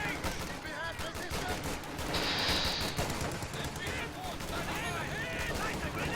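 Machine gun fire in a real-time strategy video game rattles continuously among dense battle noise and explosions, sitting under a voice that talks throughout.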